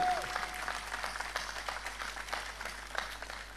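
Applause at a closing political convention rally in Montenegro, a sustained crowd clapping that fills the space, fairly distant and even, with a faint hum beneath.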